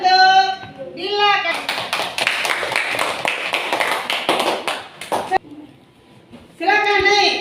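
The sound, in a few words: applause for Dila in class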